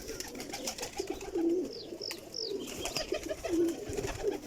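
Several pigeons coo in soft, repeated low calls close by, with brief chirps and rustling in between and no talking.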